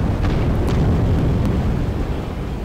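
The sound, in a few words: dynamite exploding in the video game Atom Zombie Smasher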